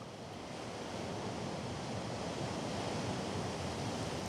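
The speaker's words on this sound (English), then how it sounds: "Waves sweep the pier of one of the small towns on the shore of the lake." Waves sweep over a pier in a small lakeside town while strong wind gusts at over 40 knots, a continuous loud roar of surf and wind buffeting with no voices.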